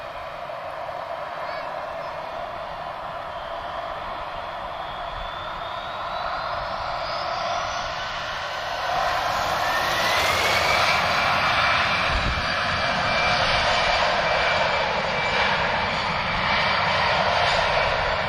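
A TAP Airbus A319 jet at Lisbon Airport sends a broad, steady engine roar across the whole stretch, rising in loudness midway with a whining tone sliding upward, and it stays loud and near throughout.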